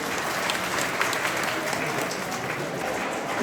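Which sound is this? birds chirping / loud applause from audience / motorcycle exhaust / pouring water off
loud applause from audience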